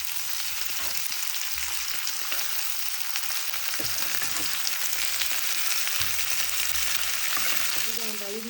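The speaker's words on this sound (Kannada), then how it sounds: "ಚೆನ್ನಾಗಿ ಮೆತ್ತಕ್ಕಾಗೋ ತನಕ ಫ್ರೈ ಮಾಡೋಣ." Capsicum frying in a pan, a steady broadband sizzle that runs throughout at close range with occasional faint stirring sounds, no voices.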